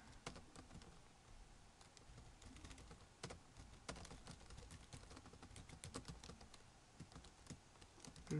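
Fast, irregular clicking of keys as someone types on a computer keyboard, close and fairly quiet, with small bursts of keystrokes and no voices.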